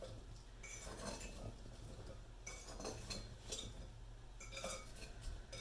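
Raw potatoes being tossed in a bowl for seasoned fries, a steady run of soft clinks and scraping rattles as the pieces tumble against the bowl, close and fairly quiet over a low background hum.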